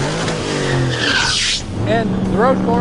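A 750-horsepower 2011 Shelby Super Snake roars hard at a drag strip, its loud engine mixed with tire squeal and brief skidding while someone talks over it.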